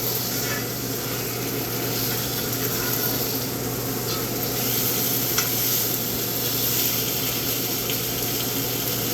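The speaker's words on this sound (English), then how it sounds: "Move that steak around a little." Steak sizzling in a hot pan as it is moved around, a dense, continuous hiss and crackle with faint scraping, steady throughout and no voices.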